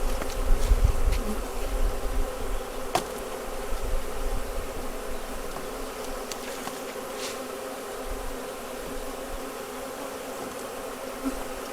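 Honeybees buzz inside a nuc box in the Ozarks, a steady close hum with individual bees droning nearer at moments, fairly soft and with no talk.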